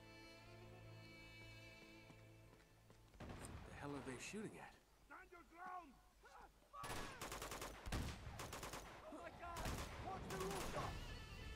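Enemy gunfire in the video game Uncharted 2, with bursts of automatic shots and scattered single cracks over several seconds, growing denser and louder toward the end, mixed with game sounds.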